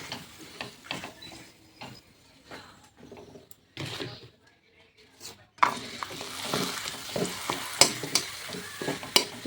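Papads frying in hot oil in a home kitchen: a soft, intermittent sizzle with scraping and tapping of a utensil, growing louder and busier in the second half, with brief quiet stretches and a little talk.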